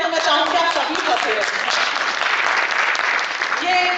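Applause fills the hall at a speech for a BSS launch event at Shaheed Smarak in Jabalpur: a dense, steady wash of many hands clapping, loud and sustained throughout, with a voice on the sound system faintly over it.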